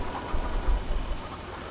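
A tractor engine idles in Farming Simulator, giving a low, steady rumble with slight uneven knocking throughout and no voices.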